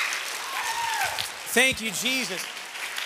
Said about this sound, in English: let's give Jesus the greatest hand clap of praise that we can right now